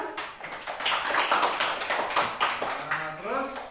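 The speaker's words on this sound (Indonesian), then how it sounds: "Ya, bagus. Tepuk tangan." A fifth-grade class claps hands in a classroom after a lesson, giving a brisk patter of individual claps at close range, uneven and moderately loud, with a voice briefly heard toward the end.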